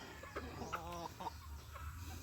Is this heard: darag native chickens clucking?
yes